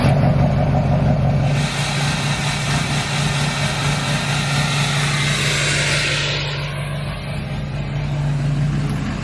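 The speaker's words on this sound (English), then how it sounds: "let's go ahead and get a nice little cold start for the truck" A truck engine cold-starts and settles into a steady, loud idle with a deep low hum, its pitch shifting slightly midway as it revs a little before smoothing back out.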